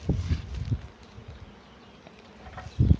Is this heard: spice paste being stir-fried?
no